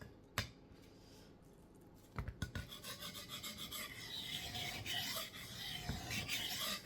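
A seven-inch Schrade knife blade being sharpened on a 3000-grit whetstone, with steady, fairly faint rasping strokes repeating in a loose rhythm, close up and with no voices.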